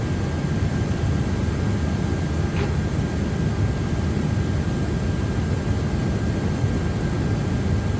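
Big airliner engine droning in a flight simulator game, a steady loud broadband roar with a faint tonal whine, constant throughout with no talking.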